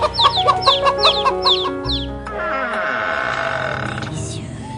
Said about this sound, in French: les 2 petits poussins qui dorment en ce moment dans un carton à chaussures sur le balcon